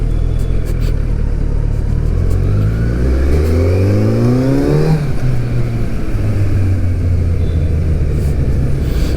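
A Kawasaki Z900 motorcycle engine and exhaust rumble close by, rising through a strong acceleration with climbing pitch, then dropping and settling into a deep, steady drone, with no talking.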